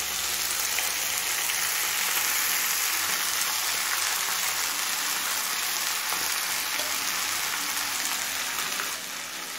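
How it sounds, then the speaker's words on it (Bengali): Green chillies and soaked flattened rice drop into a pan of frying chicken and potato for chicken poha pulao, giving a steady loud sizzle that hisses on evenly without a break. "এবার দিচ্ছি 4টে চেরা কাঁচা লঙ্কা আর দিয়ে দিচ্ছি ভেজানো চিড়ে।"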